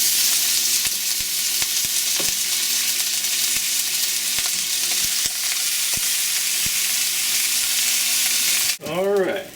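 Lamb bones brown in a hot pot with a loud, constant sizzle and sputter, broken by occasional clicks and knocks of pieces being moved. Near the end a short scraping stir is heard.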